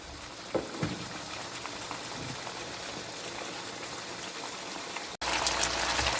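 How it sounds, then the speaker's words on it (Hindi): Chicken frying on a stove at full flame for a chicken shorba salan curry, a steady dense sizzle that runs evenly throughout, close and fairly loud, with a brief cut near the end before it resumes. "अब फुल आंच पे हम इसको चिकन को फ्राई करेंगे।"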